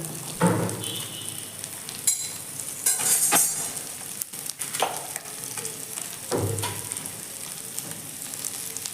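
Capsicum sautés in a pan for egg fried rice, giving a continuous close sizzle broken by irregular spatula scrapes and stirring clatter.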